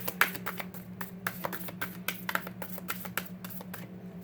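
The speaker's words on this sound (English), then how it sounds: "These are also a little harder to shuffle though, because they have like the matte finish" Matte-finish cards are shuffled in a quick series of soft riffling taps and flicks, close and quiet, with no one speaking.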